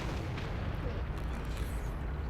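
Incoming artillery in World of Tanks rumbles as a steady, heavy low roar of distant booms and blasts, with continuous battle noise throughout and no clear single impact.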